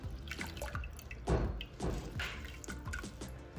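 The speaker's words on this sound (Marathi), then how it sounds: "तर इथं ही मी मेथी पाण्यातून आपण धुवून घेतली आहे" Fresh fenugreek leaves being rinsed and swished in a bowl of water, with close, irregular drips and splashes that run on steadily without talk.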